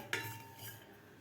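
A utensil scrapes and clinks once against a hot kadhai as roasted spices are taken out, a single quiet metallic knock followed by a faint brief rustle, with no talk.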